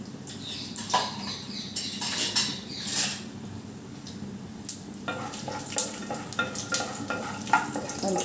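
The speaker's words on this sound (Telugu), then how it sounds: "పల్లీలు వేసుకొని కొంచెం కలుపుకోవాలి" Peanuts stirred as they fry in a pan for atukula upma, a steady sizzle under repeated scraping and clinking strokes of a spoon against the pan, with no talking.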